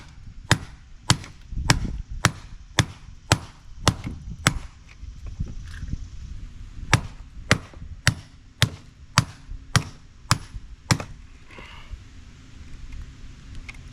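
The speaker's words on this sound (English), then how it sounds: "I wonder if the sledgehammer will break it." A sledgehammer pounds a scrap dishwasher or dryer in a fast, even series of sharp, close blows, roughly two per second, ending in a few looser, scattered hits.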